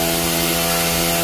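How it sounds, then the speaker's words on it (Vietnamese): Chainsaw cutting into a brittle, rotten branch of a large Japanese-style Bucida molinetii tree near a house, a steady loud buzzing drone with a strong engine hum throughout, no voices. "Anh sẽ cưa cái nhánh mục trước."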